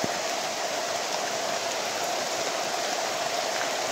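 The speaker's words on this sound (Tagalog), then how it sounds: "Kahit malakas ang ulan guys" Dense, steady hiss of heavy rain pouring continuously, with no other sounds standing out.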